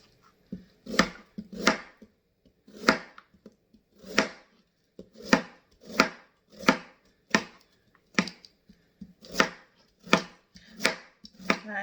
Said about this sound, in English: I think I'm going to cut the carrot in half